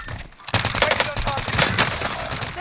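Video game gunfire crackles in dense, rapid bursts, like automatic weapons, sounding close and loud almost without pause after a brief quiet start, with some voices mixed in.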